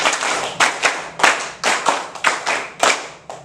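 A standing group claps a rhythmic tepuk 5 pattern, sharp unison bursts in a steady cadence, loud and close, with no talking.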